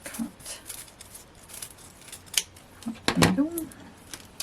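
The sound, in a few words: scissors cutting 2mm foam pads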